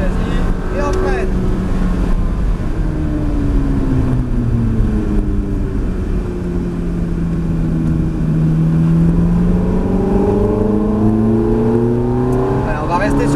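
A Ferrari F430 F1 on the Mérignac race circuit, heard from inside the car: the engine rises in pitch as it accelerates, then falls as it brakes, loud and continuous, with people talking over it.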